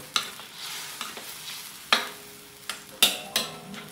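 Chicken adobo with fresh soy sauce is stirred in a pan, a low simmering sizzle punctuated by about seven sharp spoon scrapes and knocks at an uneven pace, close by.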